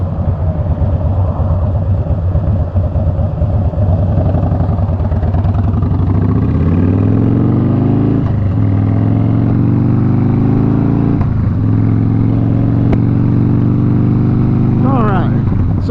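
Road traffic passes along a street, a steady engine drone from cars and motorbikes with a few vehicles swelling and fading as they go by, heard beneath a person talking.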